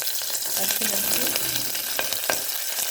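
Curry leaves and turmeric being stirred into a sambar base frying in oil with dried red chillies, garlic and green chillies: a steady close sizzle with scraping spoon strokes and occasional sharper crackles throughout.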